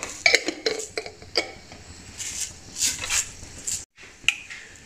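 Mustard and fenugreek seeds pop and splutter in hot oil for a lemon pickle tempering, giving close, sharp irregular crackles and bursts of sizzle with a few louder pops.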